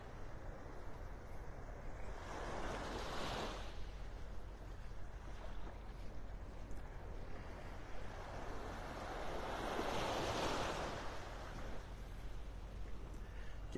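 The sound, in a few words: ocean waves on the beach in North Naples, Florida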